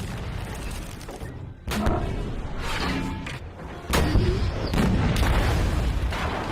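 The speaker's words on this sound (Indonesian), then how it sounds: "Saat di pertempuran itu, Nedenov berusaha menghindari tembakan tank Tiger." Several heavy booming Tiger tank cannon blasts ring out at intervals over a dense rumbling battle din, each hit loud and sharp.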